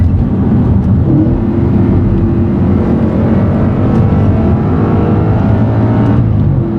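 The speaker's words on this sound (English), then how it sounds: "high revving, naturally aspirated V8 engine" A naturally aspirated V8 engine in an Audi RS5 roars loudly and continuously, its pitch rising and falling as it revs, heard close up with no voices.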